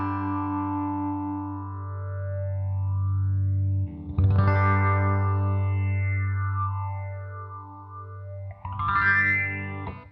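Vintage Moogerfooger 12-stage phaser on a slow LFO sweep, swirling over a sustained tone with resonant sweeps rising and falling across the sound, and two louder struck chords adding bursts partway through; no voices.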